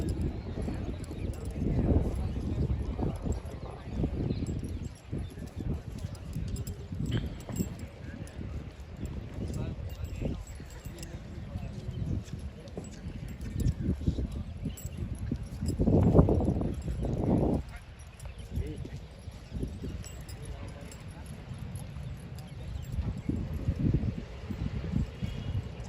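Horse hooves clip-clop at a Marwari horse show ring in Jodhpur, with a two-tooth young horse led around, the steady hoofbeats running under continuous close talk and general crowd noise.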